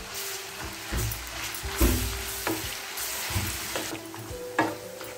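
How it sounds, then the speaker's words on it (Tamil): Onion and ginger-garlic paste sauté in a pan for a mutton kola urundai curry, with a steady sizzle broken by several sharp spatula knocks and scrapes against the pan. "இப்போ இஞ்சி பூண்டு பேஸ்ட்டு வெங்காயம்லாம் நல்லா வதங்கிருச்சு."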